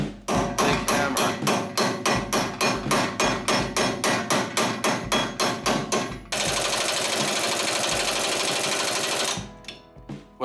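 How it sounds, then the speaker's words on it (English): Heavy hammer blows strike metal in a steady rapid rhythm during a Porsche 914 brake and trailing arm teardown, then give way to a continuous loud mechanical rattle before stopping. "Big hammer."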